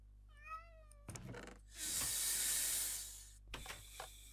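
A cat gives a short, clear meow, followed by rustling and a long loud hissing burst, then more scuffling nearby, with no talk.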